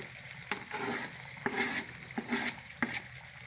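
Green peppers and onion tossed into a hot pan and stirred for a pizza lasagna, giving a steady close sizzle broken by a few sharp utensil scrapes and clinks against the pan.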